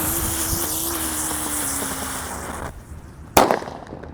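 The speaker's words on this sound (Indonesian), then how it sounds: "Selanjutnya yang kita nyalakan di sini ada mercon radiator yang warna merah." A red radiator-type firecracker goes off outdoors in a windy rice field: steady wind noise and a rising whistle-like tone, then a sudden loud sharp bang near the end.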